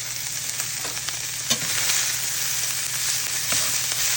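Sweet potatoes and onions fry in a pan with a constant, dense sizzle, close and fairly loud. A couple of brief stirring knocks rise above it and no one talks.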